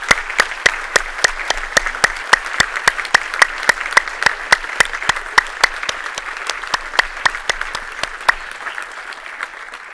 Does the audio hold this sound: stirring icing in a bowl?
no